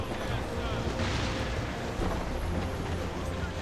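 Ship cannon fire during a naval battle in the video game Assassin's Creed Rogue, a dense, continuous roar of booming blasts that stays loud throughout, with no separate shots standing out.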